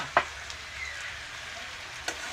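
Potato sticks lightly frying like French fries in a pan, a soft steady sizzle with a couple of brief clinks from stirring, close and fairly quiet.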